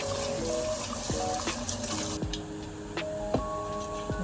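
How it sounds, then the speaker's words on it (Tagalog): Tap water runs steadily into a sink or container at close range, a continuous wet splashing stream with a few small clinks and knocks of handling over it, no voices. "Medyo sobra yung tubig."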